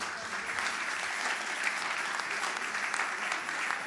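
A congregation applauds together to acclaim the Lord at a night church gathering in Geneva, with dense, even clapping from many hands throughout.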